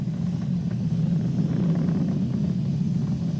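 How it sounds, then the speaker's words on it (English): A SpaceX Falcon 9 rocket carrying two astronauts toward the ISS, climbing supersonic after launch: a steady, distant, deep roar that stays even and unbroken throughout. "We've exceeded Mach 1 on the Falcon 9."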